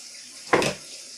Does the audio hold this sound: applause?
no